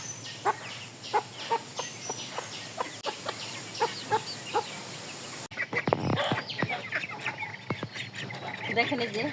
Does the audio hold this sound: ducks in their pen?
yes